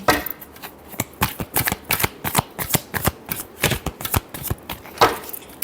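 Tarot cards being shuffled close up, a rapid irregular run of crisp slaps and riffling flicks that continues without pause and with no talking.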